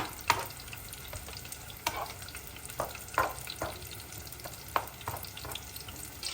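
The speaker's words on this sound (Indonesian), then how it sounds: "Dan ini coba aku aduk merata sebisa mungkin karena di tempatnya kekecilan." Food being stirred in a small pan while making homemade tempeh, with soft scraping strokes and occasional louder knocks of the utensil over a faint frying sizzle, close and quiet.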